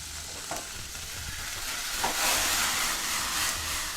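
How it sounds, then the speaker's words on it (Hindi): Chicken sautéing in a pan, a continuous hissing sizzle that grows louder and brighter partway through, with a few soft clatters; close, no speech. "और अब सबसे पहले मैं ये चिकन डाल रहा हूँ, ठीक है, और चिकन को डाल के इसको हमने थोड़ा सा सौते करना है।"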